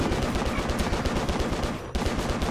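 Desert Eagle pistol fire in John Woo Stranglehold video game: loud, close shots repeating in fast, dense succession, with a brief pause near the end before the firing resumes.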